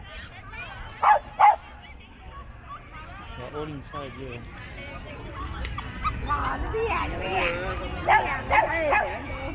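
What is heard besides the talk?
many dogs barking in a park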